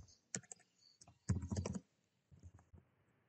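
Someone types a web address into a browser address bar on a computer keyboard: a few faint, quiet bursts of key clicks in irregular clusters, with one denser run in the middle and no talking.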